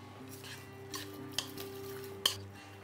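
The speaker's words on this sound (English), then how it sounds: "Give that a good mix." Lamb being mixed with salt, pepper and olive oil in a bowl, soft wet stirring with a few sharp utensil taps against the dish, quiet and close.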